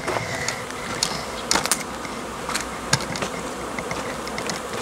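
Honeybees buzzing close by at a hive of a newly formed swarm, a continuous droning hum with occasional clicks and knocks, no voices.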